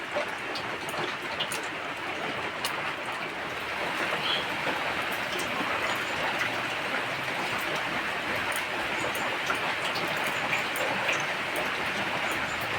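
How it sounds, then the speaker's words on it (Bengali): Steady rain falling continuously, a dense even hiss with faint scattered drop ticks, unbroken throughout and without voices. "আর সব সময় বৃষ্টি পড়ছে।"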